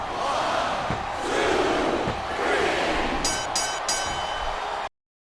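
Arena crowd chanting in the wrestling video game WWE Smackdown vs Raw 2007, a loud rolling roar of massed voices that swells and fades, with a few short rhythmic bursts near the end before cutting to silence.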